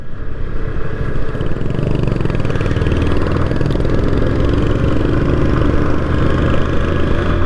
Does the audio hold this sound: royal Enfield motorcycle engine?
yes